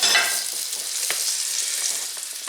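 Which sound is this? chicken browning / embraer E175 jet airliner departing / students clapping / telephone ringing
chicken browning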